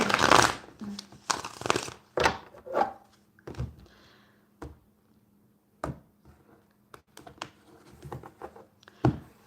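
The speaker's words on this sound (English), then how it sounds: "I will just shuffle the cards while you think of your question" Tarot cards are shuffled by hand in irregular bursts of papery slaps and riffles, some sharp and close, others soft, with quiet pauses between them and no talking.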